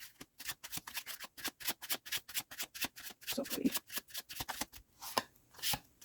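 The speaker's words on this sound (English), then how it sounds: "Let's give this a little shuffle." Tarot cards riffle and snap in quick repeated bursts, a close, crisp shuffling rhythm, with a brief spoken word partway through.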